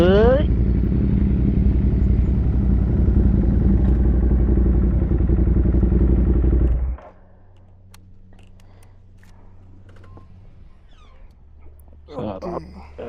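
A motorcycle ridden by a passenger who notes it is not their own: a loud, steady engine drone close by for about seven seconds, then it cuts off abruptly, leaving quieter background with faint clatter and brief voices.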